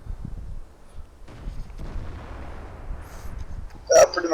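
A single loud, sharp boom from an M103 heavy tank's main gun firing in the World of Tanks video game, arriving near the end after a few seconds of low rumbling game ambience.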